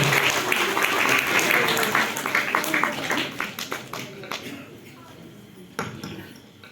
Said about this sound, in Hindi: एक बार जोरदार तालियों से इनका स्वागत करेंगे।